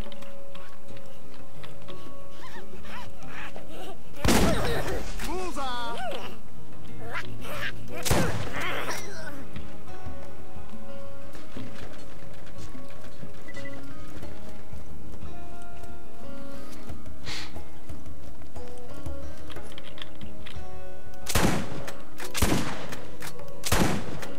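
Gunfire in Borderlands 2 rings out in a few sharp, loud bursts spread across a quieter game backdrop, with a short cluster early, another burst midway and a rapid pair near the end.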